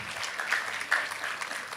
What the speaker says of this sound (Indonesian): Kita kasih tepuk tangan buat kemuliaan nama Tuhan.